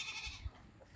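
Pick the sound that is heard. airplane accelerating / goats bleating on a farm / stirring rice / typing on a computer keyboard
goats bleating on a farm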